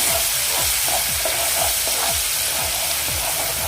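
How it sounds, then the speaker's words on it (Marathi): Onion paste sizzling steadily in a hot pan over a gas flame, loud and close, with a spoon scraping and stirring in a regular rhythm, roughly three strokes a second. "कांदा आपल्याला थोडंसं एक दोन मिनटं फक्त परतायचं आहे"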